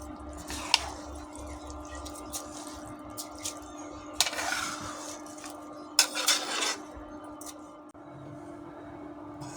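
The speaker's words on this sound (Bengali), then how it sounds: "দিয়ে ভালো করে নেড়ে দিলাম।" A spoon scrapes and clinks against a cooking pot of mutton biryani in a few short, close bursts, with quiet gaps between the strokes.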